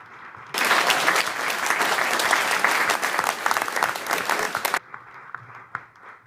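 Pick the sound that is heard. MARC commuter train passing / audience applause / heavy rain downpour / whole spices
audience applause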